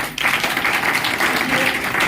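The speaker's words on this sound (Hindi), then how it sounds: "उनके लिए एक बार जबरदस्त तालियां" Attendees at a business party meeting in Gurgaon break into enthusiastic applause, a brief, fairly loud burst of many hands clapping that stays dense and even.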